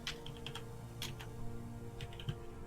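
Keys clatter on a computer keyboard in short bursts of clicks, fairly faint under a steady low hum, with no voices.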